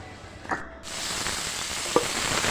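Washed, peeled and cut ridge gourd pieces drop into hot oil and sizzle steadily, a loud, close hiss that swells after the pieces land, with a faint stirring clink.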